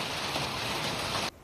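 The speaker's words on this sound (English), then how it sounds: "Not only was it large hail, but it was a lot of hail as well." Large hail pours down in a storm, a dense, steady drumming roar of many hailstones striking the ground that stops abruptly near the end.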